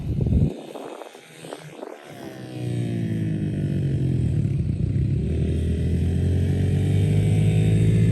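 Another rider's dirt bike on a training ground stays in one gear and revs, rising from a clattering start into a loud, sustained drone close by.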